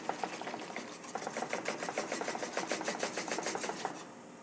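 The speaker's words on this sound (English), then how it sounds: "I'm going to whisk that in." Rapid, steady whisking of a hot mixture for chocolate pots de crème, a quick rhythmic clatter of the whisk against the bowl running throughout, close and alone.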